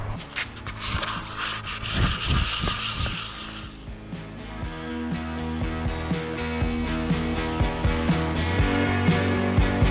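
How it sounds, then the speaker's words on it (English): Close, rhythmic rubbing strokes of sandpaper on a wooden butcher-block countertop, coarse and busy at first, then easing into a softer, steady scrubbing. "I'm just going to finish sanding it down, make sure it's dust free"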